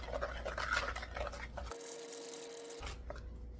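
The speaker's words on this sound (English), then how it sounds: "And stir that in." A spoon stirs sugar into brownie batter with a soft, grainy scraping and swishing, close and quiet, with a short pause partway through before the stirring picks up again.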